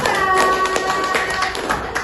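Group of listeners clapping for a student team at an Islamic religious education teaching session, a steady dense patter of hand claps filling the room at moderate loudness.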